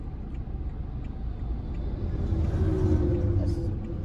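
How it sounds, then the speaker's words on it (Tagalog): A large truck rumbles along a dusty road, its low engine drone rising gradually as it draws closer and passes, moderately loud and steady with no voices over it. "Laki ng truck."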